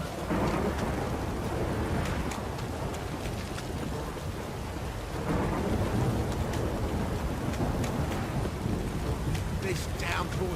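Heavy rain pours in a steady downpour during a storm in the video game The Witcher 3, with rumbling thunder rolling through. A voice speaks over the constant hiss of rain.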